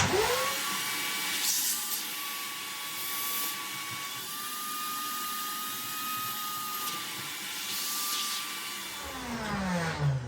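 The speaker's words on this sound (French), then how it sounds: "je vais préparer l'aspirateur à eau" A wet vacuum cleaner whirs up and runs with a steady, loud whine, then winds down at the end.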